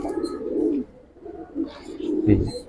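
Bagha pigeons in a loft coo up close with deep, throaty rolling calls in two bursts separated by a short lull, and a faint voice sits underneath.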